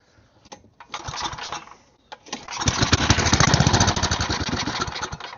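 A small go-kart engine that has been choked sputters through a couple of brief start attempts, then catches and runs with a loud, rough, close-up rattle.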